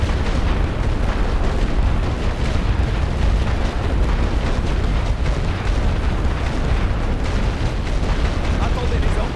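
Continuous heavy booming of an artillery barrage in a World War I trench-warfare strategy game, dense overlapping explosions and rumbling blasts filling the whole stretch at steady loud volume with no pauses.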